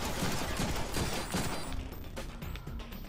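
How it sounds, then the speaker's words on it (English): Rapid bursts of gunfire fill a shooting sequence in the Deadpool video game, loud and clustered at first, then thinning to scattered shots and mechanical clicks; no voice is heard. "Who's shooting me?"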